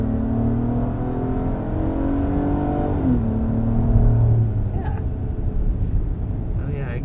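A 2022 Acura MDX Technology engine pulls steadily as the three-row luxury SUV accelerates, a smooth, refined mid-level drone with rising and falling harmonics, heard from inside the cabin beneath a person talking.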